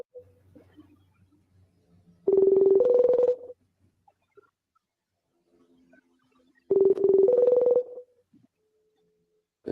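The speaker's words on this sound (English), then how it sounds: "Damn it, Dan, pick up the damn phone" A telephone handset sounds a ringback or dial tone: two loud, separate bursts of a steady two-pitch electronic tone, each about a second long, with quiet gaps and faint room noise between them.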